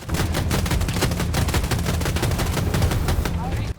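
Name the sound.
helicopter 30mm cannon firing at a tank, Battlefield 2042 video game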